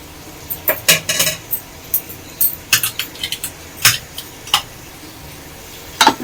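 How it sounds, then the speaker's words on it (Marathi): Cooked basmati rice tipped into a pan of prawn masala and stirred, with a scattering of sharp metallic clinks and scrapes of a spoon against the pan, irregular and close, with no voices. "आता मी ह्याच्यामध्ये ना भात आपला घालून घेते"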